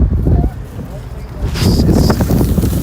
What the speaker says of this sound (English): Today it's just really windy.